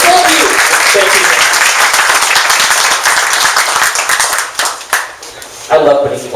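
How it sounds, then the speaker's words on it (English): Audience applause fills a launch event for a Silicon Valley thinkers group, dense and steady clapping for several seconds before thinning out, with voices speaking at the start and end. "So let's give a big round of applause."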